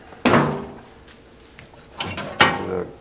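The glove box door of an abandoned 1976 MG Midget being handled, a sharp plastic clack, faint rattles, then two more knocks and thuds up close with no talking.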